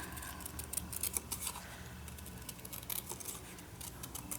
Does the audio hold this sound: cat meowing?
no